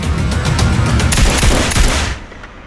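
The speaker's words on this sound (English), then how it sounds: "Shots fired in the embassy." Dense rapid gunfire during an embassy assault in the video game I Pet Goat II, loud and close bursts crackling continuously for two seconds before cutting off.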